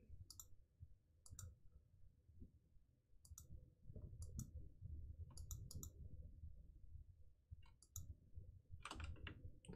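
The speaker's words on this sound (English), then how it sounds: "That clicking sound that's gonna drive me crazy is my fault, because I set that up." Faint, sharp clicks sound in small clustered bursts at irregular intervals over a low, soft rumbling background, quiet and close.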